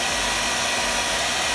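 Nova Mini travel hair dryer running on its second speed, a steady, close, loud whooshing blower noise with no variation and no talk.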